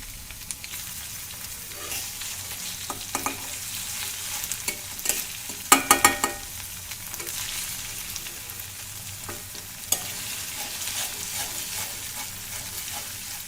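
Cumin paste and dried chili paste fry in oil, a close, steady sizzle with repeated scraping stirs and a few sharper clatters of the spoon against the pan, no voices.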